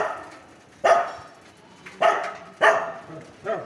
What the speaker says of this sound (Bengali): কাকে দিয়ে চিল্লাচ্ছিস ডগি?